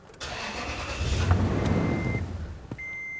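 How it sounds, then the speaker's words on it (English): A 4.7L V8 in a 2000-2006 Toyota Tundra cranks, catches and runs briefly as fuel pressure is bled off during fuel pressure regulator work, then sputters and dies, followed by a steady warning chime. "We want to crank it over. We're going to let that engine die, releasing the fuel pressure from the rails."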